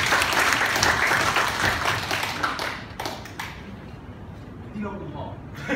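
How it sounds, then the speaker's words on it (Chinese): A church congregation applauding scholarship recipients at a Taiwanese Sunday service, dense clapping that fades out after about three seconds, leaving quieter room noise and a few scattered taps. "那牧师来颁奖那我们也用我们的掌声来祝福他们"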